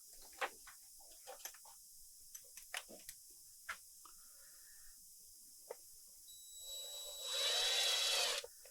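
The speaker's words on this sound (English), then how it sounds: "we do have to pre-drill a hole" After scattered light clicks and taps, a power drill whirs briefly near the end, pre-drilling a hole for a wall anchor, a short high-pitched run that stops abruptly.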